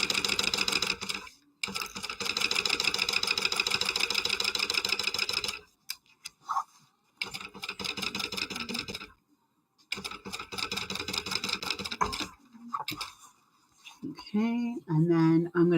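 A sewing machine stitches the exterior pieces of a bag at a half-inch seam, a fast, steady mechanical whir in long runs broken by brief pauses, with faint talk near the end.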